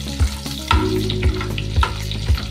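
Egg masala ingredients fry loudly in a pan with a constant close sizzle, broken by regular thumps and scrapes of stirring about every half second, with no voices.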